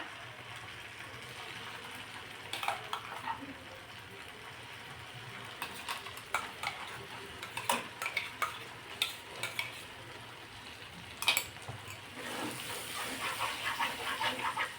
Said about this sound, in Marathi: आता हा मसाला दोन मिनिटासाठी आपण परतून घेणार आहोत